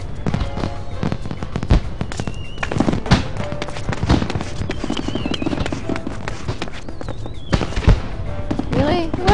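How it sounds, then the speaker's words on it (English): Fireworks burst in the video game Final Fantasy XIV, with repeated sharp pops and crackles and whistling streaks scattered throughout, while people talk over them. "Where's the firework? I hear them,"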